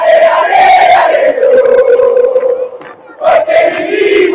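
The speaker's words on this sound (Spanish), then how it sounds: "ve a su gente en las tribunas alentando, rompiéndose la garganta y las palmas" Huracán supporters in the stands at a football match against Banfield roar a sustained, loud sung chant, massed voices holding a melodic line with a brief dip before surging again.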